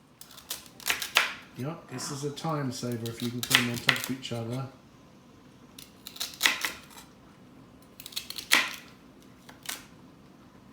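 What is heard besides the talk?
knife dicing white and red onions on board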